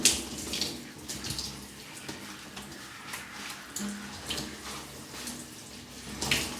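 Water pours and splashes steadily over a body during ritual washing, with irregular sloshing bursts and a brighter splash at the end, close and continuous with no talking.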